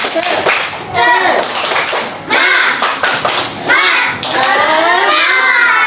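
Children in a classroom clap the rhythmic tepuk semangat pattern, bursts of hand claps and thumps in quick sets with short pauses between, mixed with children's voices chanting along and a teacher speaking.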